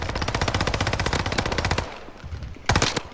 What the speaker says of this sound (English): There's like three people shooting at me.